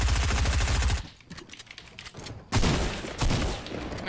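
Rapid bursts of automatic gunfire from a Fortnite battle fill the first second, then a quieter stretch of scattered shots, then another dense loud barrage resumes and runs to the end.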